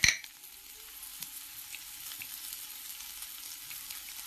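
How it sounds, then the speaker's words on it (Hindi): Crushed green chillies frying in hot oil, an initial sharp crackle as they land, then a continuous bright sizzle that stays steady and close. "गाइस अब मैं इसमें हरी मिर्च डाल रही हूँ,"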